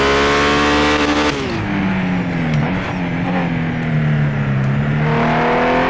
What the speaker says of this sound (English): That exhaust note is so good.